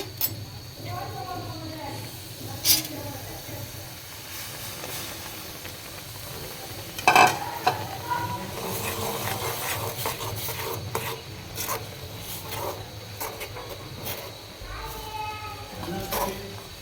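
Spatula working rice flour dough around a hot pan for a spicy pitha, a steady close scraping and stirring with faint sizzle, a few sharper knocks, and a voice talking over it.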